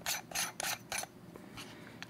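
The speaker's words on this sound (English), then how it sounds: "And then the hood screws right on to the top." A Haoge square lens hood is screwed onto an adapter on a Fujifilm X100V, giving a few close, dry rasping scrapes of threads turning in short bursts, then softer, fainter scratches as it tightens.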